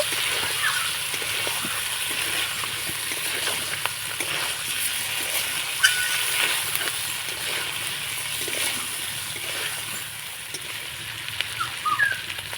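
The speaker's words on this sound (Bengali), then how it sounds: "আলুর সঙ্গে মশলাটা ভালো করে কষিয়ে নেব" Boiled potatoes frying with spice masala in a pan, a continuous close hiss and sizzle with faint scraping from stirring throughout, no talking.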